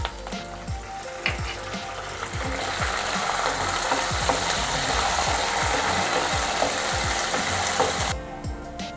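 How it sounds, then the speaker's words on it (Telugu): Peanuts and curry leaves fry in hot oil in a pan with lentils, a loud steady sizzle with a ticking, rattling stir and scrape running through it, close up and without talk. "పప్పులు కొంచెం వేగిన తర్వాత మనం దీంట్లోకి పల్లీలు, కరివేపాకు యాడ్ చేసి కొంచెంసేపు ఫ్రై చేద్దాం"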